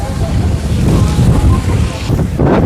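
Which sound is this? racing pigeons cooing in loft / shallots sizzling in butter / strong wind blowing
strong wind blowing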